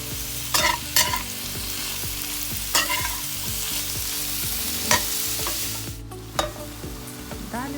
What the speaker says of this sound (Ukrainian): Після того, як обсмажилась цибулька, кидаємо нарізані печереці.